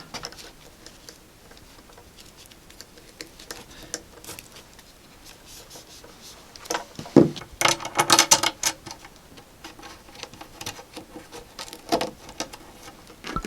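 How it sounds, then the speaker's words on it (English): Screwdriver forced through punched holes in a showgirl costume piece to widen them, giving a close, quiet run of scraping and tapping that swells into a louder rasping burst midway, then settles to faint handling noise. "I'm pushing this other screwdriver through just to make the hole a little bit bigger"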